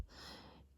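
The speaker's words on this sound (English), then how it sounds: "loud snoring dog in the background" A single soft, breathy dog snore rises and fades in under a second, faint and close.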